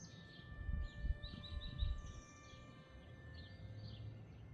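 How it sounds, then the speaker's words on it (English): Real wild birds sing outdoors in a quiet natural setting, with faint, scattered chirps and short trills over low rumbling background noise and a steady hum. "If you're hearing the birds in this audio, those are all real birds right now"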